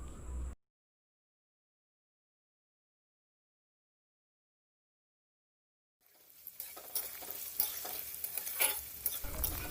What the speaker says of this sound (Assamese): হেতাখনেৰে ইলুটি শিলুটি কৰি আমি এইখিনি অকণমান ভাজি ল'ম।